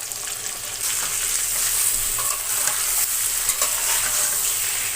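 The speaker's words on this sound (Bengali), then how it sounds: "এখন এটা সুন্দর করে এভাবে নেড়ে নেড়ে ভেজে নিব" Boiled pointed gourd fries in oil with chopped onion, garlic and green chili, a steady bright sizzle rising after a quieter start, with soft stirring scrapes and no talking.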